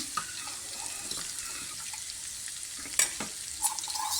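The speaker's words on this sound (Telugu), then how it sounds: "కొంచెం జింజర్, గార్లిక్, కొంచెం కార్న్ఫ్లోర్ మిక్స్ చేసింది ఇందులో వేసి కలుపుతూ ఉంటాము" A ginger, garlic and cornflour mixture is stirred in a pan for mutton bone soup, giving a steady soft frying hiss with a few light scrapes and clicks of the utensil.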